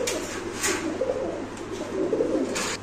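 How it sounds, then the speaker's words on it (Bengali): Pigeons at a pigeon farm coo steadily in soft, repeated low calls, close by, with a faint bright rustle now and then and no talking. "যারা কবুতর ডাকতে শুনতেছেন তারা এই কবুতর নিতে পারে।"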